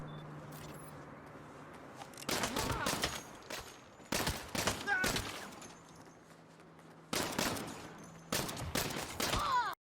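Weapon fire in the Saints Row 2022 video game, arriving as several separate bursts of rapid shots with quieter gaps between them, the last burst cut off at the end.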